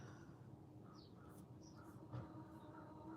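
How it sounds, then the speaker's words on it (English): A crow caws outdoors, faint and distant, a few scattered calls over a steady low background hum. "Do you guys hear the crow?"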